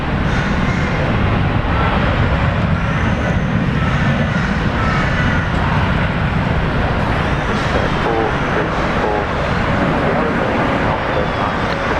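Air Canada airliner arriving at Brisbane Airport, a broad steady jet roar that holds evenly throughout with distant traffic-like rumble mixed in.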